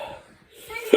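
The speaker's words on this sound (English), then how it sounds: "Got a little hiccup there." A single sharp hiccup from a man at the end of a brief pause in his talking, close and abrupt.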